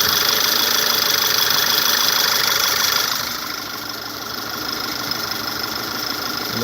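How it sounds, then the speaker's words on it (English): A running engine with an injector fault misfires steadily, a rough uneven idle with a rattling knock up close, dropping in level partway through and continuing alone without talk. "No, it's really misfiring"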